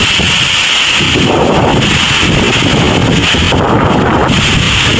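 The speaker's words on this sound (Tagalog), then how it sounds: "Talaga yung hangin." Loud, roaring typhoon wind buffets the microphone continuously during landfall in Isabela, with gusts surging and easing in broad waves; no talking.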